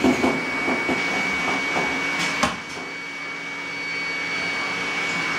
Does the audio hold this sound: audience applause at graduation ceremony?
no